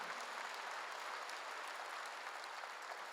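Congregation applause during a church sermon, a faint, even patter of many hands clapping that stays steady throughout, distant and without speech.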